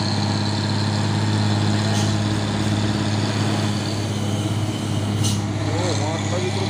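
A box truck's engine idles in a low, steady rumble throughout, with faint voices in the background.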